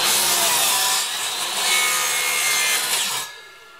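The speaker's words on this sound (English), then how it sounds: "So I gotta do it the cool chop saw way" A chop saw cuts through a piece of wood, giving a loud, steady, close grinding whine for about three seconds that then drops off quickly as the blade runs down.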